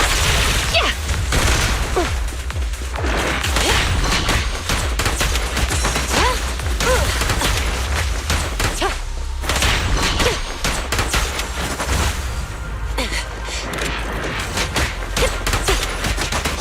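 Dense, continuous gunfire in the video game Zenless Zone Zero, with overlapping bursts and booming impacts filling the whole stretch at high volume and only brief dips.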